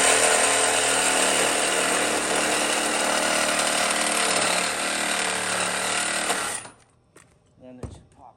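A power tool cuts metal on a door hinge of a 1977 El Camino A-body, a loud steady grinding whine that runs for about six and a half seconds and then stops, leaving quiet shop noise and a few knocks.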